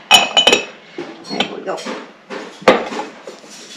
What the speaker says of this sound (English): The noise you're hearing in the background is hubby doing the dishes.